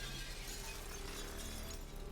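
Glass smashed with a wrench in the video game Prey: a sharp shattering crash at the very end, preceded by a low steady ambient game hum with no talking.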